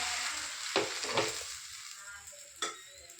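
A flipped wheat dosa sizzles in oil on a griddle, giving a bright steady frying hiss broken by three short scraping taps of a spatula.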